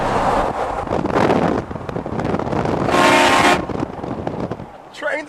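A train horn blasts briefly and loudly partway through, over wind buffeting and rumbling movement as a train passes.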